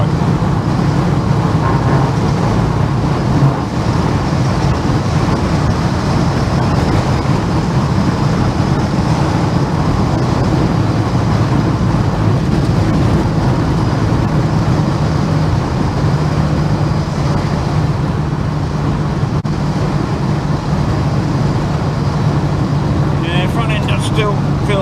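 A Holden HK towing a boat drones steadily along the road while overtaking another car, with constant engine and road noise heard from inside the car.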